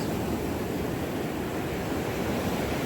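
Ocean surf washes in at a beach where someone stands thigh-deep fishing, a steady broad rumble of breaking water with wind noise on the microphone, continuous and unbroken with no talking.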